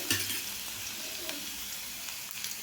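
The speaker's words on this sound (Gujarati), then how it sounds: "એની અંદર આપણે રાઈ એડ કરીશું રાઈને તતડવા દઈશું લસણની પેસ્ટ એડ કરીશું" Mustard seeds and garlic paste spluttering in hot oil, heard as a dense, steady close-up hiss with a sharp pop at the start and a few scattered crackles.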